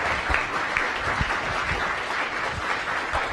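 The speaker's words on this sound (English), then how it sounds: "One more round of applause" Steady applause from an audience at a Science Cafe talk on the Moon, dense and continuous clapping that holds at an even level throughout with no talking.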